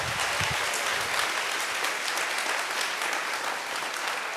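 A convention audience at the Eurofurence 28 opening ceremony applauds the new awareness team with steady, dense clapping that holds at full strength throughout, with no voices over it.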